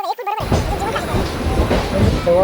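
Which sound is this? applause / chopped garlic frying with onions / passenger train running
passenger train running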